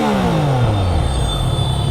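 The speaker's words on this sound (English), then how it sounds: "hear the exhaust note once again" Triumph Trident 660 motorcycle exhaust note, a loud, close rasping engine tone whose pitch sweeps downward as the revs fall, then settles into a rumbling drone.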